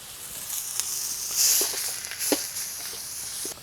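Pound of fresh ground chuck beef sizzling in a hot wok, a steady broadband hiss with scattered crackles and light scraping taps as the meat is moved around, close and moderately loud, no talking.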